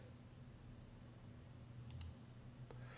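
A few sharp computer mouse clicks in iTunes, two close together and then a single one, faint over a steady low electrical hum.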